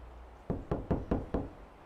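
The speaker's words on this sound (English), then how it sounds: "Then I tried knocking." Five firm knocks land on a door in an even, deliberate rhythm, each a dull, close thud with a short ring-off, after a moment of quiet.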